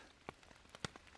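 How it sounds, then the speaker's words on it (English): Raindrops fall at a bike campsite, making a few faint, scattered ticks and taps at irregular intervals against a quiet background. "Yep, raindrops."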